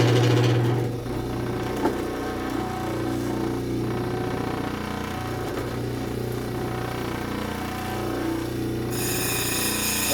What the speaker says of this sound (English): you can also hear the difference in the grit when it's rubbing on the stone